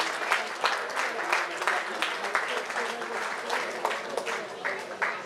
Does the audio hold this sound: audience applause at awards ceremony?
yes